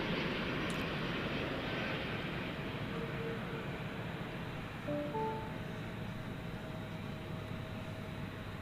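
A UPS MD-11 trijet cargo aircraft passes at night at DFW Airport, a continuous distant engine rumble with faint steady tonal whines layered over it, no talking.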